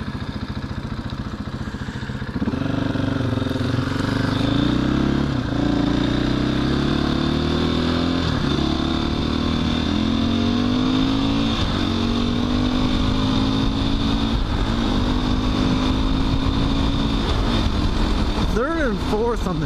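A motorcycle with a six-speed transmission riding along an expressway, its engine droning loud and steady close to the microphone, revving up and down through gear changes with wind rumble throughout.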